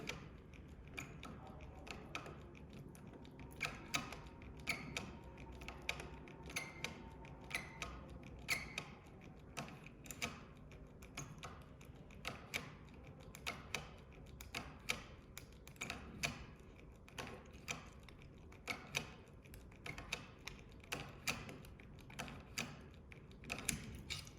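An Arfe 3x3 safe lock dial is turned slowly while being opened with a DM decoder, producing a series of faint, irregular mechanical clicks and ticks, close and quiet, with no talking.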